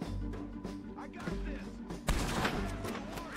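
Gunfire in the video game Red Dead Redemption 2, several sharp shots and a louder blast partway through over a constant rumbling background, with a voice talking underneath.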